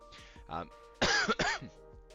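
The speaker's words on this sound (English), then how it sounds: "it's probably just a cough" An adult with a chest infection lets out a short cough, then a harsher double cough, each rough and close.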